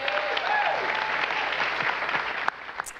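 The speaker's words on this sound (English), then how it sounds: "Can we get a round of applause for these young men, everybody?" Studio audience gives loud, dense applause for the Lincoln High School varsity football team, steady and close throughout with a faint voice briefly underneath.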